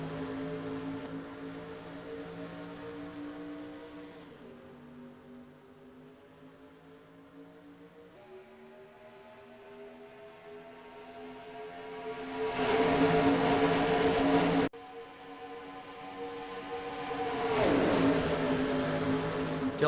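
Stock cars in NASCAR Racing 2003 pull away after the green flag, a pack of engines droning and then swelling into loud revving surges as cars pass close, with no voices.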